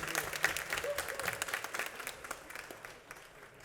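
Audience applause at a school band spring concert, a short burst of scattered clapping heard fairly faint and distant, fading over a few seconds.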